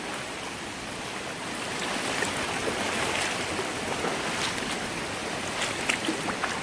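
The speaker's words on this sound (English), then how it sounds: "So we've got the water running down beside our land here, which is great." Water runs down a small stream beside rural land, a steady broadband rushing and burbling heard close by with a few brighter splashes, no talking.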